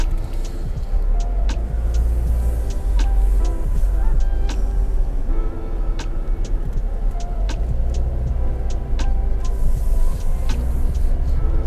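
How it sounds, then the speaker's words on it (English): A Toyota Veloz car drives through city traffic, its engine a steady low rumble under continuous road and cabin noise, with faint rhythmic ticking clicks throughout; no one speaks. "Of course you can hear the engine lah."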